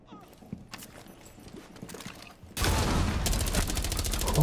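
Sparse clicks give way to a loud burst of rapid, dense gunfire that continues steadily to the end, with synthetic game sound effects from Tom Clancy's Rainbow Six 3.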